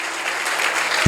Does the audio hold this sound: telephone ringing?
no